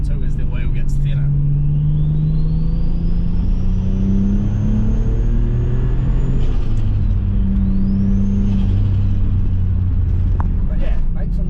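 A Subaru with a turbocharged EZ30 engine driving uphill, its steady loud engine drone and whine rising and falling as it accelerates, with a faint chain rattle under the road and wind rumble.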